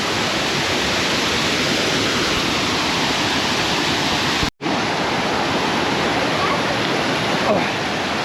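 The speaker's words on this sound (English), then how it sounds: "This is Brook Falls or Camp Carter Falls." Brook Falls, also called Camp Carter Falls, roars with a loud, steady, broadband rush of falling water close by, unbroken except for one brief cut.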